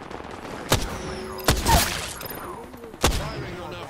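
Single loud gunshots crack out at irregular intervals during an Apex Legends match, three distinct reports with a brief burst of rattling noise between them over a low background of game ambience.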